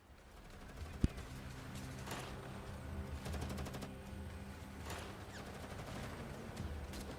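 Bursts of gunfire from the ground in the GFL2 Exilium video game, repeated rapid volleys of moderate loudness over steady background game sound.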